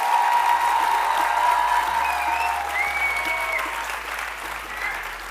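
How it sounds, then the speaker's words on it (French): An audience gives one last round of applause for doctoral students at the Poitiers final of the MT 180 thesis contest, a full, sustained clapping that stays loud throughout, with a faint tonal music line and low hum beneath. "je vous demande d'applaudir une dernière fois tous nos doctorants qui sont impatients derrière"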